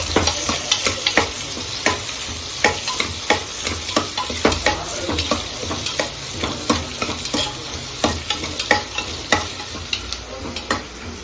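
Onions sautéing in a pan for biryani, with a steady sizzle under repeated close, rhythmic scrapes and stirs of a spoon against the pan and no talking.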